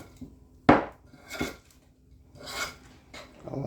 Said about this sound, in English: let's see if we can stir this up